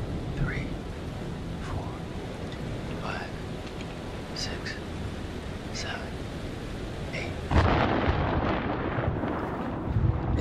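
Low rumbling thunder of an approaching storm in Man of Medan rolls continuously under rain-like noise, swelling louder near the end, while people talk over it.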